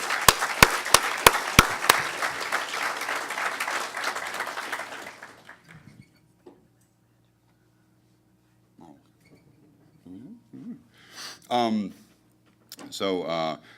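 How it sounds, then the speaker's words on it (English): An audience at the SkyDogCon 2013 hacker conference's awards and closing remarks claps for about five seconds, opening with a few sharp loud claps before fading out, followed by someone speaking. "So a round of applause for Hackers for Charity for their hard work."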